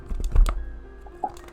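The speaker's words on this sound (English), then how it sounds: "the rifling of books" Books being rifled through serve as a tabletop game sound effect, a brief close rustle of pages and papery knocks, short and fairly quiet.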